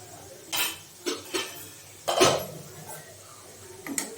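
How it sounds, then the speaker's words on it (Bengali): A metal lid is lifted off a pot of carrot halwa, giving several short clanks and scrapes of metal on metal, close and fairly soft, with quiet pauses between them. "চাপা দেয়া ঢাকাটা তুলে নিচ্ছি"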